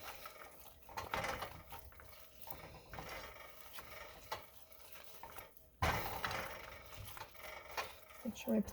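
Potatoes being stirred into cheese sauce in a pot, soft wet scraping and spoon clinks against cookware, fairly quiet and irregular with a sharper knock partway through.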